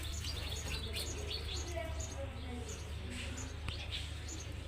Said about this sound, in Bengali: পাখির শব্দটা অনেক ভালো লাগে আমার কি সুন্দর কিচিমিচি কিচিমিচি করে